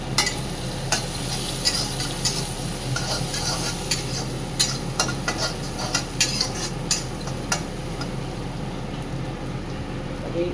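Ginger paste with cumin and coriander powder sautéing in a pan for bottle gourd and egg curry, a steady close sizzle with repeated scraping and stirring clicks of a utensil throughout.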